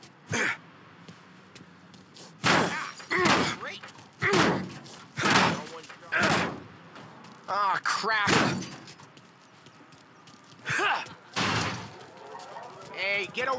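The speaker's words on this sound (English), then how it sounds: "Let's get to these cars. Take your bat and start swinging." Baseball bat repeatedly smashing cars in Mafia: Definitive Edition: a series of loud, heavy metallic thuds and crunches at an irregular rhythm, with game voices talking between the hits.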